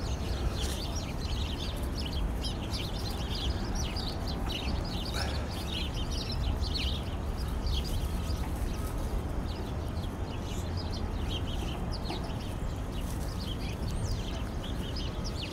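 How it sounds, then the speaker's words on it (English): Birds chirp and call in a city park, a steady layer of small tweets and songs over constant low background hum, with no clear talk. "I always love the sound that the birds make here in the park."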